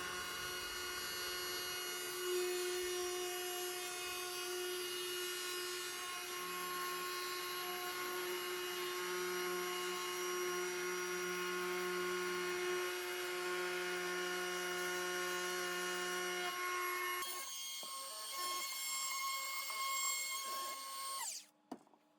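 A high-pitched power tool rounding over the edges of a wooden jewelry box whines steadily for a long stretch, its tone wavering slightly, then winds down and cuts off near the end.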